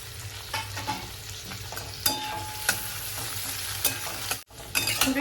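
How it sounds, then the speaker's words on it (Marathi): Two small tomatoes sautéing in a pan for pressure cooker chicken curry, sizzling steadily under repeated scraping stirs of a spoon, with no talking. "टोमॅटो परतून झाला"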